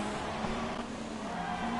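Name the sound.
F1 race car engine noise from a racing video game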